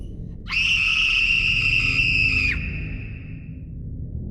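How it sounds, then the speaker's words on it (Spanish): Deafening scream sound effect in a Spanish-language horror story, a loud piercing high-pitched shriek held steadily for about two seconds and then cut off, over a low rumbling background. "Un ensordecedor grito salió de ella, un grito tan abrumador que casi me reventó los tímpanos del oído."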